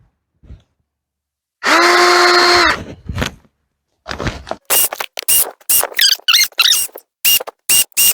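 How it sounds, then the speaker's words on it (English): Power drill boring holes through flexible rubber garage door weather stripping for nails, heard as one sustained high whine lasting about a second, followed by a rapid series of short sharp clicks and squeaks. "So we're going to drill some holes."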